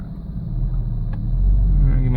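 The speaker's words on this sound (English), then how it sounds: "I don't know if you can hear the engine at all, but it is running." A Porsche 986 engine idles just under 1,000 rpm, a low, steady rumble heard up close inside the car, swelling slightly toward the end.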